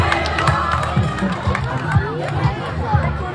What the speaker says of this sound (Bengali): জোরে হাততালি হবে।